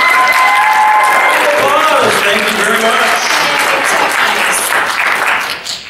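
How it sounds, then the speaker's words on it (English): Loud audience applause fills a voice-acting panel room, dense clapping sustained throughout, with voices and some speech mixed in before it tapers off at the end. "Applause. Thank you very much."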